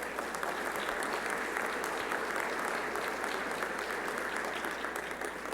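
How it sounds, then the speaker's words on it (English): Steady round of applause from an audience at a student venture competition, honouring the judges; many hands clapping in a continuous, fairly distant wash at moderate volume. "give our judges a nice round of applause"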